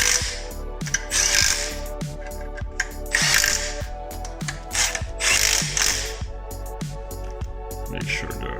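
A ratchet wrench tightens the mounting bolts of an aftermarket Polish Husar winch on a 2021 Polaris Sportsman 570 ATV. It gives repeated bursts of close, crisp clicking, with short pauses between the strokes.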